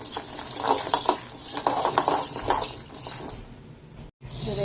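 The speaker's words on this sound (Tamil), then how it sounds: "அரிசி நல்லா பொரிஞ்சிருச்சு பாருங்கள்." Rice dry-roasting in a pan, a soft crackle with repeated scraping and clinking as it is stirred, up close, fading briefly near the end.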